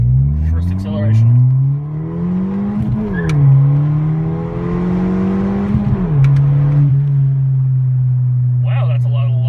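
A Ford Fiesta ST with the catback exhaust unbolted from the downpipe accelerates loudly and close by, its engine tone climbing through gear changes with a brief pause between pulls, then holding at a steady drone.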